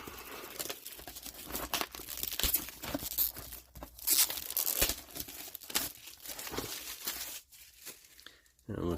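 Plastic wrapping on a Chronicles of Arcane trading card game booster box is torn and crinkled open in loud, irregular bursts of ripping and rustling, with a voice talking over it.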